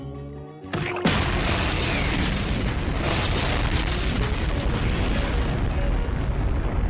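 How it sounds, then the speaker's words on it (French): A cartoon pie bomb handed by Squidward to SpongeBob goes off in a huge, roaring blast that starts abruptly after a brief quiet and rumbles on loudly and continuously without letting up. "Une explosion qui ressemble étrangement aux explosions dans Bikini Atoll qui ont été filmées"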